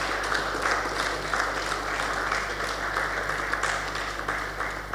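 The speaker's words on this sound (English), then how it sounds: "So let's just give Dr. and his team a round of applause." Attendees at a One Health and Biosecurity conference in Africa clap in a steady, moderately loud round of applause that holds evenly over a low background hum.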